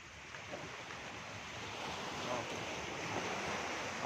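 Strong sea waves at a resort beach in Tanza, Cavite, a steady wash of surf with wind buffeting the microphone, fairly faint and continuous without voices.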